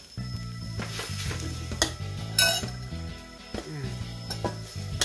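Sliced pork neck is stir-fried with red curry paste in a pan, with steady sizzling, a metal spatula scraping and clinking against the pan, and a constant low hum beneath.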